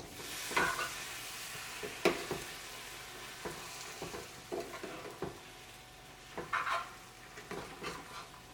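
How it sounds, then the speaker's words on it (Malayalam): Roasted coconut being stirred into a simmering curry in a pot, with soft scraping and clinking strokes of a spoon at an irregular pace against a faint sizzle, close and quiet, with no talk. "ഇതെല്ലാം കൂടിയിട്ട് നന്നായിട്ടൊന്ന് മിക്സ് ചെയ്യാം."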